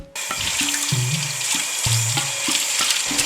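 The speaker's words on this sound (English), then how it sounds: "इसमें हम पानी डालेंगे to boil our rice" Water runs steadily from a kitchen tap into a pot while it is filled to boil rice for chicken biryani, with a few clunks and shifts of the pot under the stream.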